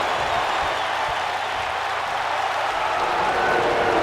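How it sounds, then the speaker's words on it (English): A large wrestling crowd in Miami makes a dense, steady roar of mixed cheering and booing with applause, loud and unbroken throughout. "Half of the crowd in Miami is cheering her, and the other half is booing her"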